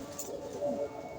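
Male pigeons coo while fighting, their soft, throaty calls faint and rising briefly near the middle of the short stretch.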